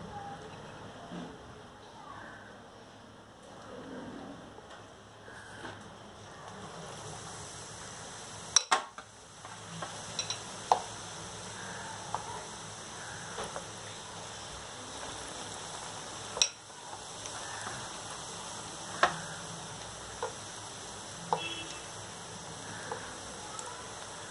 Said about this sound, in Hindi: तेल भी हमारा गर्म हो चुका है अब हम इसे फ्राई करेंगे